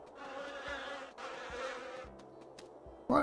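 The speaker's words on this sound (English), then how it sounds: "Did I walk by bees?" Bees buzz in the WolfQuest wolf video game, a steady droning hum that swells and dips for about three seconds with no voices.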